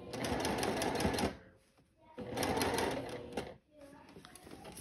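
Sewing machine stitching gathers on a floral sundress, running in two fast, buzzing bursts separated by a short pause, with a quieter stretch of stitching at the end.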